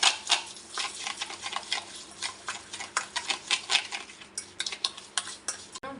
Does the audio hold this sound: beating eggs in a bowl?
yes